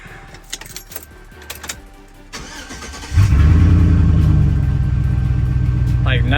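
Keys jangle and clatter, then a Chevrolet Silverado crew cab pickup engine, just after an engine bay cleaning, cranks and catches, settling into a loud, steady idle close by.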